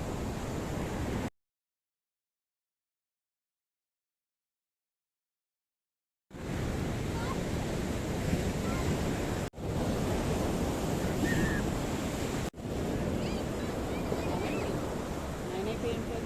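Sea surf rolls onto the shore at Appikonda Beach, Visakhapatnam, as a steady broadband wash with wind noise. A long silent gap interrupts it and two brief dropouts cut it later.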